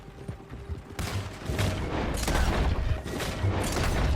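Gunfire in Red Dead Redemption 2: a rapid barrage of loud, booming shots that rolls on almost without pause, with sharp cracks rising over a steady roar of fire.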